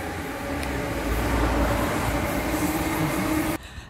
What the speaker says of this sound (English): So that's the train.